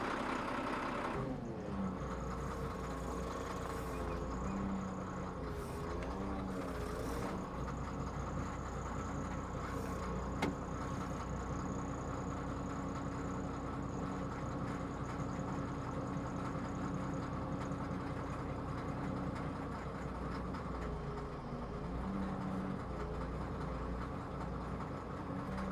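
A large truck engine idles steadily with a low, heavy rumble, holding close and loud through the whole stretch with no clear pull-away surge.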